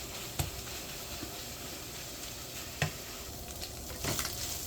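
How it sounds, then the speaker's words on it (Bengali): Tilapia fish pieces frying in hot oil, giving a steady close sizzle with a few sharp stirring clinks from a utensil against the pan. "এবার এটাকে ভালো করে লাল লাল করে ভেজে নেব।"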